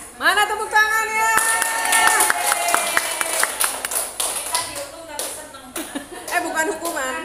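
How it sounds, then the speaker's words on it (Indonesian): Clapping from a classroom group after a teacher's prompt, scattered sharp hand claps mixed with lively children's voices and chatter, moderately close and fairly loud throughout. "mana tepuk tangannya?"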